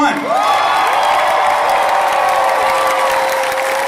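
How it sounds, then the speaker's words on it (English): A convention crowd at the Megaplex 2021 closing ceremony cheers and applauds loudly, with sustained clapping, whoops and shouts held at full volume throughout. "can we have one last cheer for Megaplex 2021?"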